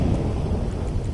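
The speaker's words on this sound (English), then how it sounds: "I'm going to turn off the thunder because I don't want to be listening to it" Thunder sound effect playing during a stream, a brief, continuous low rumble with a rainy hiss, steady and moderately loud with no voices.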